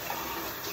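Water splashed onto a face during a shave, a brief close wet slosh and trickle running steadily for under a second with no talking.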